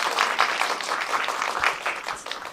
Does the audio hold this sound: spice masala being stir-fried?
no